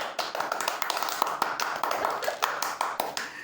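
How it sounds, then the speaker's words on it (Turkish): A few people clap at home after a sibling guessing game, giving sharp, uneven hand claps that run closely together for several seconds. "Alkış lütfen."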